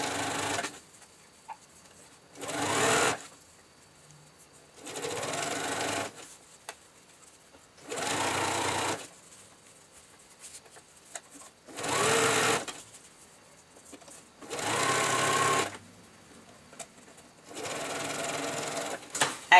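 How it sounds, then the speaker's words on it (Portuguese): Sewing machine stitching under pedal control, running in repeated bursts of a few seconds each separated by short pauses, close and clear. "eu gosto de usar o pedal porque eu tenho mais controle da máquina"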